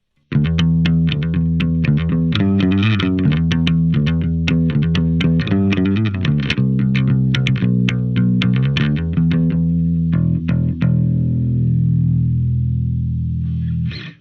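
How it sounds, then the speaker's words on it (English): Bass guitar played through a Line 6 Helix modeler with a Tech 21 distortion model, giving a loud, gritty, overdriven tone. Busy picked notes run for about ten seconds, then a single sustained note rings out to the end, with no talk. "Just adding that distortion, or the Tech 21 and the dynamics, brings it from that nice clean sound"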